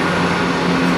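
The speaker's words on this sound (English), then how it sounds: "Well, that's not Shortstay's train." Loud, steady rumble of a train passing close by, continuous and unbroken.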